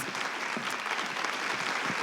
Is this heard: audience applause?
yes